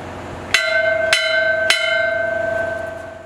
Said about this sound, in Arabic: فقد دقوا أجراس الكنيسة